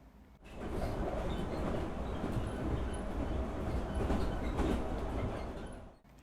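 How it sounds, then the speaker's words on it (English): Subway train running underneath a small house, a muffled continuous rumble with faint clickety-clack that rises in, holds steady for several seconds, then fades abruptly. "Pretty soon, there was a subway going back and forth underneath the little house."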